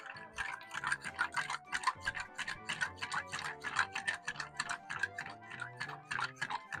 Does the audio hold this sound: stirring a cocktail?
yes